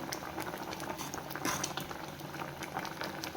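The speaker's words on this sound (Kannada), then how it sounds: "ಸ್ವಲ್ಪ ನೋಡಿ ಚೆನ್ನಾಗಿ ಈಗ ಕುದೀತಾ ಇದೆ" Fenugreek leaf dal bubbling steadily in a pot on the stove, a close, continuous simmering burble with soft pops and splutters and no talking.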